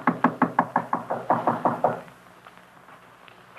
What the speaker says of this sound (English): Standing there knocking, I suddenly realized that the door was ajar.